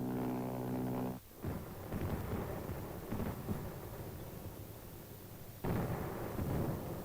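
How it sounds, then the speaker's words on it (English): Artillery and small arms fire meets an amphibious assault, heard as a dense, continuous roar of rumbling blasts and crackling shots, with abrupt surges and drops in loudness. "Now the aggressor begins his resistance to the attack with artillery and small arms fire."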